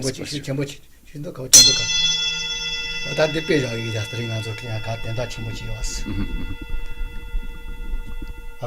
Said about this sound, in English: when I strike the side of the bowl with the mallet, or in this case with my pen, a sound emanates